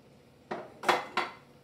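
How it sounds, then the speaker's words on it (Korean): Dishes clatter during washing up with lukewarm water in a home kitchen, three close, sharp clinks of crockery knocking together in quick succession. "찬물 대신 미지근한 온도의 물로 설거지를 하고,"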